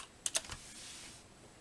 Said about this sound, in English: I'm going to type in cupcake in the search bar.